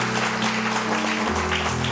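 A church congregation applauds in a dense, steady burst of clapping that runs the whole short stretch, with sustained organ or music tones underneath.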